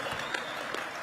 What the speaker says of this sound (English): they're trying to clap, dude. Please let them clap for a second.